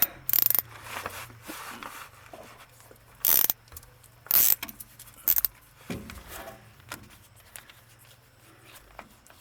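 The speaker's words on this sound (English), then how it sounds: "It's got a square hole in it, and that fits a 3/8 ratchet, fits right in it" A 3/8 ratchet works a differential fill plug on a vehicle, producing several quick bursts of close metallic clicking separated by pauses, with faint handling noises between them.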